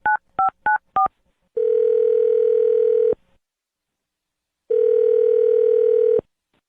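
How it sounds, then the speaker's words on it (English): Four quick dialing beeps in a row, followed by two long steady ringback tones separated by a pause of silence. "I'm going to dial the phone number."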